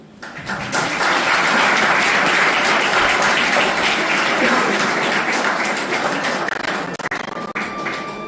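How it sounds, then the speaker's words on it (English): Loud, dense clapping from a school audience at Freedom International School, rising quickly and holding steady for several seconds, with a few sharp knocks near the end. "that deserves a clap"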